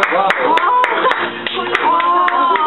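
Scattered claps ring out over loud cheering voices, a small group applauding close by at a street magic performance in an echoey room.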